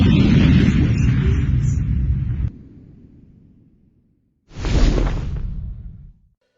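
Explosion sound effects play in an ad: a loud whooshing boom fades into a rumbling tail and drops to silence, then a second sharp blast bursts out and cuts off.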